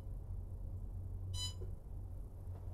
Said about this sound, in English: the buzzer's already gone off because it gives me a buzzer when it gets up to temperature